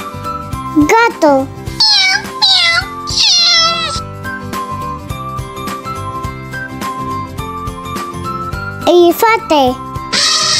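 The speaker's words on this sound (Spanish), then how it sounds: "Gato." A cat meows several times in a children's animal-sounds lesson, short rising and falling calls in two clusters over a tinkling musical backing, with a voice present.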